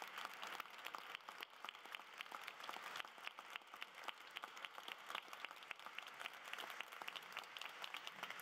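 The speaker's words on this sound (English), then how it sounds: "give them a round of applause as they come up" Applause at a sustainability conference as young presenters come up onto the stage, a crisp patter of many hands clapping steadily, moderately quiet and continuous throughout.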